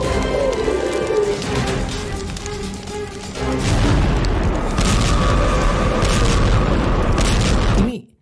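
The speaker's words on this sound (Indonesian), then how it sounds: "dalam liang lahat ada bom K400 sampai meledak gitu" A loud, booming explosion with a heavy low rumble and crackling debris, swelling mid-way and sustained before cutting off abruptly.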